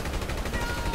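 Gunfire rattles in GTA 5 Online in a very brief, dense burst of rapid shots, mixed with a voice.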